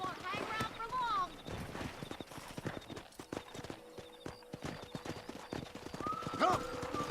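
Hooves clip-clop at a quick galloping pace as a horse whinnies loudly near the start, with other busy background sounds layered throughout, in the video game Red Dead Redemption.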